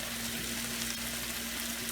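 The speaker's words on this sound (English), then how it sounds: "So it's time to add the shallow fried fish pieces" Shallow-fried fish pieces sizzling in biryani masala for a Malabar fish biryani, a continuous, even frying hiss held at close range with no voices.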